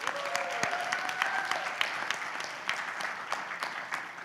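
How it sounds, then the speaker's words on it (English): A crowd at the Fanhita 2023 event claps steadily throughout, a dense even wash of applause with a brief whistle-like tone early on and no talking over it. "May we give her a round of applause for that one?"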